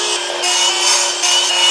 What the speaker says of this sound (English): I got 14¼ inches marked out on all my shiplap, so let's make those cuts